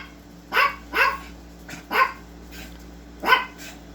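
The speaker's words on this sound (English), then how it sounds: "You don't gotta bark that much." Indoors, several dogs bark in short, sharp bursts, roughly five close, loud barks spread over a few seconds, with fainter yips between them.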